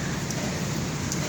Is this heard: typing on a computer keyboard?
no